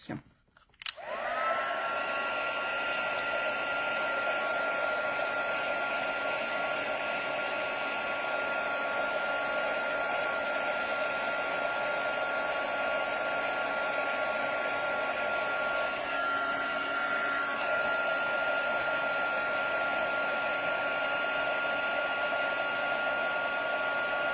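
A heat gun blows hot air over embossing powder, starting with a brief handling clatter and then settling into a loud, steady whooshing drone with a constant whine that carries on alone to the end.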